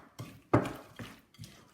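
A spoon stirs pineapple and nuts into carrot cake batter in a bowl, giving four soft, separate scraping knocks with short gaps between them, close and fairly quiet, with no voices.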